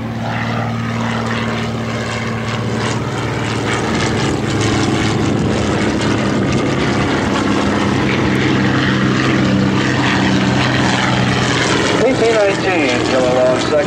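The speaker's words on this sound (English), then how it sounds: "here's Mark Denest in the PT-26, the one with the greenhouse canopy above" A PT-26 primary trainer, the variant with a greenhouse canopy, drones past as a propeller airplane at a World War II weekend air show, its steady engine hum holding loud throughout with a faint voice underneath.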